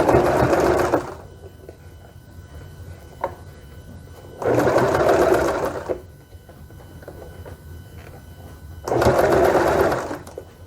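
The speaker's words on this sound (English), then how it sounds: "take this to the sewing machine and just sew along the circumference here" A sewing machine stitching silk or satin fabric runs in three short bursts of rapid stitching, each a second or two long, separated by quieter pauses with light handling noise.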